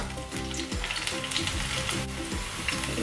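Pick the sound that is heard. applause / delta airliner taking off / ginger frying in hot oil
ginger frying in hot oil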